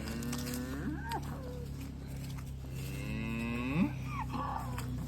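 Farm cattle low out twice: one long moo near the start and another a few seconds later. Both sit over a steady background hum, with no people speaking.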